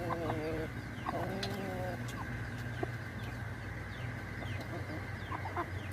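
Chickens and chicks cluck and chirp at feeding time on a farm, with repeated clucks and thin peeps scattered over a steady low background hum, fairly faint and at a middle distance.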